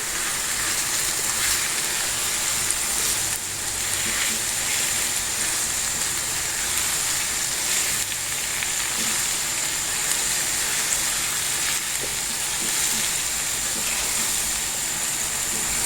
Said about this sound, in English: So I'm going to keep on stirring the egg